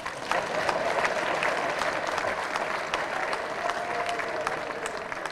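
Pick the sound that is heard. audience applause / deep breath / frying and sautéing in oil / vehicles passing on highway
audience applause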